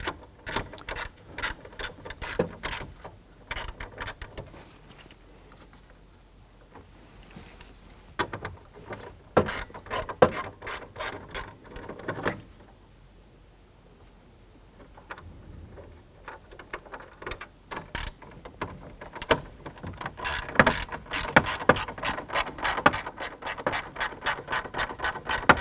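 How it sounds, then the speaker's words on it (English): A ratchet fitted with a 9/32 socket removes screws from a 1993-1997 Ford Ranger instrument cluster, giving repeated bursts of quick, close clicking with short pauses between turns. "Using our 9/32, we're going to go ahead and remove those as well."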